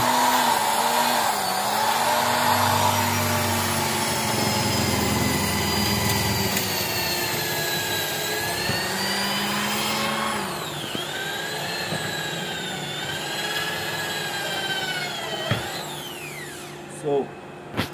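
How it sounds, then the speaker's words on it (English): An electric drill bores a hole while running off a generator, giving a steady, loud motor whine that holds through most of the clip and then drops away near the end. "I'm going to drill a hole right here."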